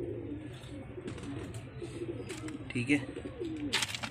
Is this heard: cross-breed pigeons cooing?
yes